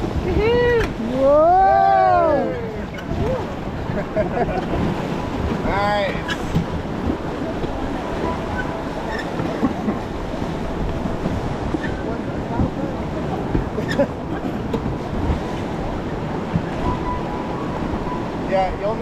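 Whitewater splashing and rushing river water during a raft ride on the Denali River, a broad continuous roar with a loud surge of splashes early on, while people shout and talk over it.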